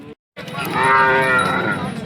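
A loud, close cow moo at a cattle market in Sangola, Maharashtra, one long low drawn-out call after a brief pause.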